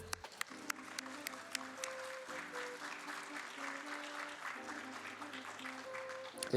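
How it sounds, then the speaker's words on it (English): Soft, continuous applause from a crowd at Awesome Games Done Quick 2026 plays faintly beneath looping background music with sustained tones. "Can we get a round of applause for Chrissy's mom?"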